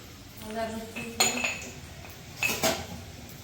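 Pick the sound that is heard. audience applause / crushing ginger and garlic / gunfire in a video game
crushing ginger and garlic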